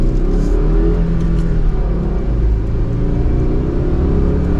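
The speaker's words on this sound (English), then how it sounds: "So let's give it one more acceleration. Let's start from first gear" A 2023 Subaru Crosstrek with a six-speed manual accelerates from first gear, its engine droning loudly and steadily from inside the cabin, the pitch climbing slowly under a heavy road rumble.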